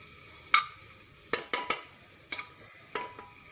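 Ginger-garlic paste and hot onion cooking for a jackfruit rind stew give off a faint, low sizzle, broken by about half a dozen sharp spatula scrapes and taps against the pan.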